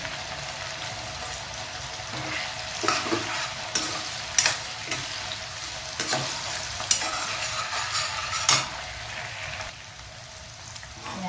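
Green chilies frying with ginger-garlic paste in a pan, a dense steady sizzle with intermittent scraping stirs, close and alone without talk.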